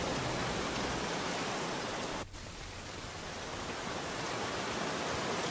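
Steady rain falls on an alien planet in Aliens: Dark Descent, an even hiss of dense drops that continues alone, with a brief dip partway through.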